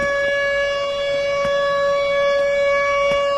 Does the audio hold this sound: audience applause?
no